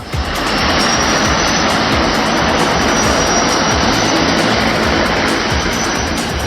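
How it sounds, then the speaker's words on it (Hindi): A seaplane taking off from Sardar Sarovar lake, its engine roaring loud, close and continuous with a broad, steady drone and no voices. "थोड़ी दूर तक ये सरदार सरोवर झील की शांत लहरों पर दौड़ता रहा और फिर देखते ही देखते नीले आसमान की ऊंचाई नापने के लिए निकल पड़ा।"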